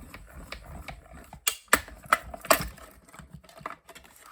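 Die-cutting machine cranked through with plates, card and die, giving irregular clicks, creaks and a few sharp mechanical snaps amid quieter rustling, close and without speech.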